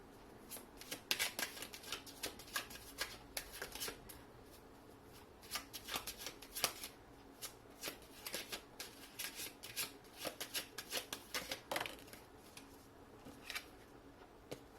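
Tarot cards are shuffled and drawn close up, producing soft, quiet riffling and flicking bursts that repeat irregularly throughout, with occasional faint taps and no talking.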